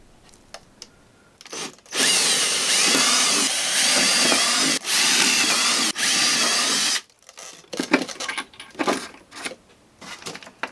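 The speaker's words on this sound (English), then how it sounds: "Once aligned, I marked to drill holes." A power drill bores holes while fitting parts onto a large 84-inch span F8F Bearcat model airplane, with one long loud whine of about five seconds, briefly dipping midway, followed by scattered clicks and handling noises.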